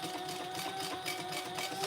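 A sewing machine running a short 1/8 inch seam to close a pocket on a fabric travel pouch, a quiet, steady mechanical hum with a faint rapid stitching rhythm and no talk.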